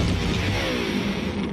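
An electric guitar hurled off a 20-story building lands in one loud, close crash, followed by a ringing, decaying rumble of strings and body.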